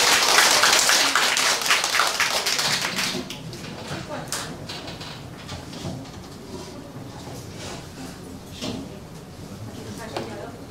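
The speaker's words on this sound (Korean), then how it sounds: "그러면 일단 이서희 부회장을 박수로 모시겠습니다." Audience applause at an indoor seminar of a Korean constitution-medicine association, welcoming a vice president to the stage: dense clapping loudest at the start, then thinning into scattered claps and murmuring voices.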